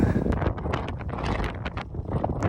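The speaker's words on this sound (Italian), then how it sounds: "c'è solo un po' di vento, nulla di che" Strong wind buffets the microphone on a steep volcanic mountain trail in Tenerife, a loud, continuous roar with gusty swells and rustling throughout.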